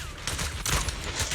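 Bursts of gunfire aimed at a sniper in Zenless Zone Zero ring out in a quick, dense fusillade of sharp cracks against a rumbling game backdrop, several rapid shots packed into a brief moment.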